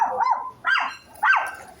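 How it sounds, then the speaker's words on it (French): A dog barks as it passes by outdoors, three rising yelping barks spaced about half a second apart, fairly close and clear. "il y a un chien qui vient de passer"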